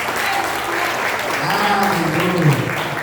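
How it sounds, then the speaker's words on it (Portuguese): A church congregation applauds together in a sustained burst of clapping, loud and close, while a voice rises over the noise partway through. "Vamos aplaudir melhor em nome de Jesus."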